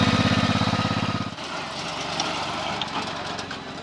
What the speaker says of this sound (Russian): Можно, конечно, в помощь аккумулятору запустить движок.